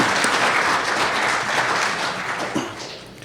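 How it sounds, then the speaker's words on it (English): A hall audience at the RBC Convention Centre applauds a First Nation drum group with dense, sustained clapping at close range that fades slightly toward the end. "Once again, let's have a round of applause for the Spirit Sands drum group."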